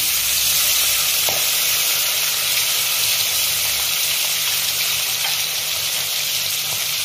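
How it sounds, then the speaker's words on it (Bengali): Green chili paste hits hot oil in a pan, producing a loud, continuous, close-up sizzle that holds steady throughout, with a faint utensil tap or two underneath. "একটু লঙ্কা বাটা দেবো"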